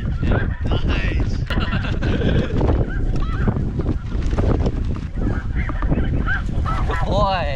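Snow geese honk in a dense, loud flock during a duck and snow goose hunt in Saskatchewan, Canada, overlapping calls continuous throughout with a few distant voices mixed in.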